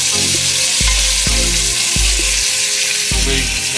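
Sausages sizzle loudly and steadily in a frying pan while cooking for gumbo, with several dull knocks of the pan breaking through the continuous hiss.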